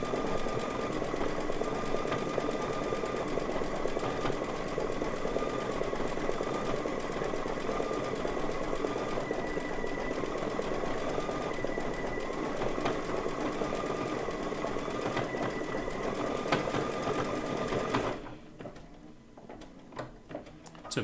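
A sewing machine runs steadily for about eighteen seconds as it stitches a satin stitch for a flower quilt block, with a fast, even mechanical whir and ticking, then stops, leaving near silence.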